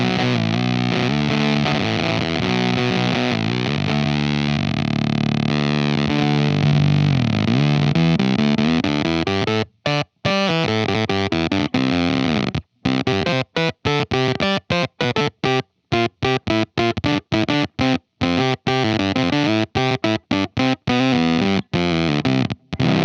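Electric guitar played through a Zander Circuitry effects pedal with the tone switch off, heavily distorted and glitchy, with warbling, synth-like sustained notes that later break into rapid choppy stutters and cutouts.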